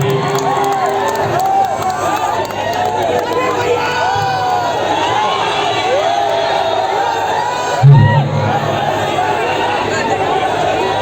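A lively crowd cheers and chatters steadily, with whoops and shouts rising over a continuous background roar.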